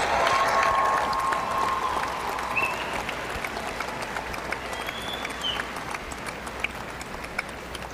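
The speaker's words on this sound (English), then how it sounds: "Please join me in applauding the graduates from the College of Science," Sustained applause and a few cheers from a large audience for graduates at a University of Arkansas Fort Smith fall commencement ceremony, broad and steady in a big hall, with a couple of whistles rising above the clapping.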